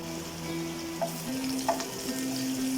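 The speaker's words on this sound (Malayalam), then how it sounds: "ഇതിൽ നമുക്ക് ആദ്യം തന്നെ നമ്മളുടെ വെളുത്തുള്ളി ഒന്ന് ഫ്രൈ ചെയ്തെടുക്കാം." Garlic fries in a pan as the first step of a creamy garlic chicken, giving a soft, steady sizzle, fairly quiet and close, with a couple of faint clinks over a few seconds.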